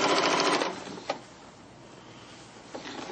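A sewing machine stitches a quilt in a brief fast burst of close mechanical rattling, then stops, leaving a couple of small clicks and handling noises in near quiet.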